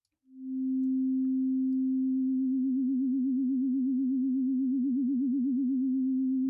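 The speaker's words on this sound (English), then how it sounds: "What we'll hear is just vibrato, which is frequency or pitch modulation." A steady synthesizer sine tone fades in and holds alone and clean, then a frequency-modulation vibrato sets in and grows steadily wider and faster until it cuts off.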